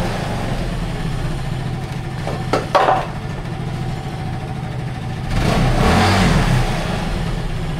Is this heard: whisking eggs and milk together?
no